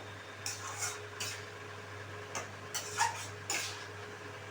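Chicken curry is sautéed with its spices in a pan, with intermittent scraping clinks of a spoon against the metal over a low steady hum and faint background sizzle.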